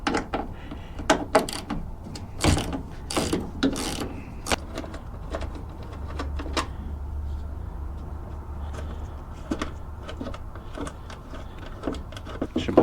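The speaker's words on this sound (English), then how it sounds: "So this one calls for 10mm socket. All we're going to need to do is remove these two bolts" A ratchet with a 10mm socket backs out tail light bolts on a Nissan Frontier, sharp clicking bursts and metallic handling close by with a low steady hum beneath.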